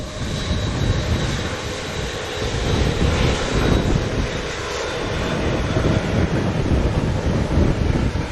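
An Air Canada airliner rolls out after landing at Montego Bay, its engines giving a loud, steady roar mixed with wind rush that holds throughout.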